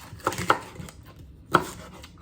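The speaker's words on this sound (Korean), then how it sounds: "적절한 크기로 썰어주면 되는데" A few sharp knife strikes chop cabbage on a board for curry, close and distinct, with two clear thuds among lighter taps and no talking.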